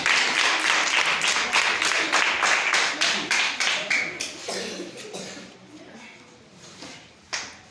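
A round of clapping for a pupil's answer at a school quiz final, brisk and fairly close, thinning into separate claps that fade out, with a last single clap at the end.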